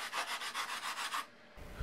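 Laser-cut wooden nose fairings for a model airplane are sanded in about eight quick, even back-and-forth strokes, close and fairly quiet, followed by a brief pause and a soft knock.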